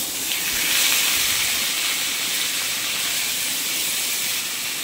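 Soaked Gobindobhog rice hitting hot ghee gives a steady, broad hiss and sizzle that swells at first and then holds even and continuous, close by, with no voices.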